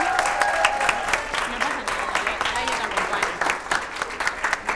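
Studio audience applauding on a Catalan spelling quiz show, a steady dense wash of clapping that carries through the whole stretch at a fairly loud level.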